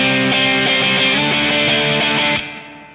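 An electric guitar plays through a cheap Revol distortion pedal with the drive raised, giving loud, dense chords that ring out and then fade as the strings decay.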